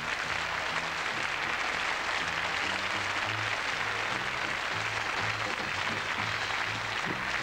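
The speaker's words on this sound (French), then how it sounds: "je vous demande de l'encourager, de l'applaudir" Studio audience on a French variety TV show applauds steadily and loudly, a dense wash of clapping throughout with music faintly underneath.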